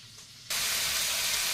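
Garlic, onion, tomato and ginger hit a hot pan and burst into a loud, steady sizzle after a brief quiet moment, a close, continuous frying hiss.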